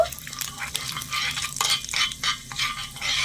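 Black mustard seeds with urad and chana dal fry in a little oil and are stirred, a close, busy sizzle of popping and crackling that rises and falls in bursts over a few seconds.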